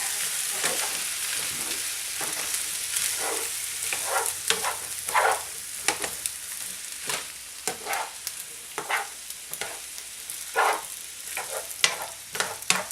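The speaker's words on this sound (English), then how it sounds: "And I just start mixing them up real good." Potatoes, green beans and corn sizzle in a frying pan while being stirred, with a steady hiss broken by repeated scraping strokes of the spoon at an irregular pace, close and fairly loud.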